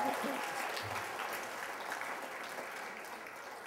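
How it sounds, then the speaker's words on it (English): Audience applause fills a large hall at a general session marking a 20th anniversary celebration, a steady dense clapping that holds evenly for several seconds before slowly tapering. "Give yourselves a round of applause."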